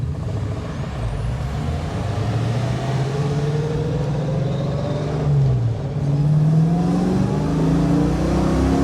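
A restored 1971 Plymouth Barracuda convertible, a classic Mopar, revs its engine up close and loud, a deep steady rumble whose pitch climbs and swells in two pushes toward the end.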